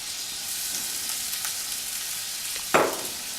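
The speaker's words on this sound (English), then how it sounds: "we're actually going to saute the mushrooms in brown butter" Shiitake and button mushrooms saute in brown butter, giving a steady, close frying sizzle with a brief louder hiss and crackle near the end, and no one talking.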